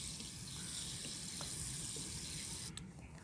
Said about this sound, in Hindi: ऊपर से अब दोबारा एक मरतबा भर के पानी देंगे